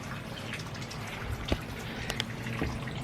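Water from a garden hose splashing onto potted ferns and plants, a soft, close patter of drips and trickles with a few sharper splashes, fairly quiet and continuous without any voices.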